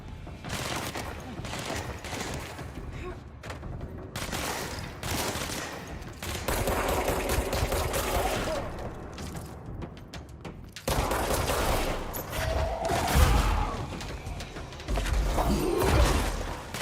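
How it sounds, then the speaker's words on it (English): Rapid bursts of gunfire from the video game Control, with machine-gun volleys and single shots repeating throughout, loud and close over a busy backdrop. "I hear you're shooting at me."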